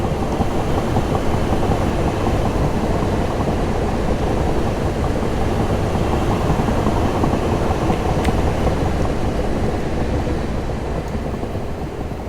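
A train in Train Simulator 2018 on the Hampton Court to London Waterloo route gives a steady, loud broadband rumble and rush of running noise throughout, with no speech.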